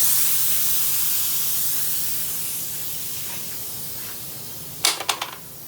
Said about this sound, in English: And then I will let the air out of it.